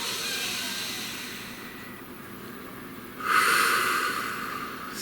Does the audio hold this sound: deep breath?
yes